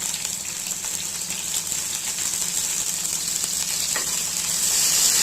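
Chopped tomato and ginger fry in a pan with green chilli for a mint chutney, giving a steady, close sizzle with a stirring hiss that swells slightly near the end, with no talking.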